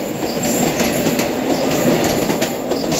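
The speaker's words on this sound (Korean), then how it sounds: "지금이 출근 시간대 러시아워 타임이라서 지하철이 배차 간격이 짧은 것 같습니다." Seoul subway train crossing the Jamsil Railway Bridge during morning rush hour, a loud continuous roar of wheels on rails with rhythmic clatter and faint squeal, heard from nearby.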